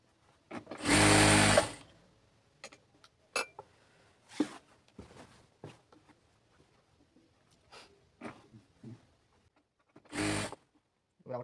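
A sewing machine stitches salwar fabric in loud, brief runs, first a sustained whir of about a second, then scattered clicks and short bursts, and finally another short stitching run.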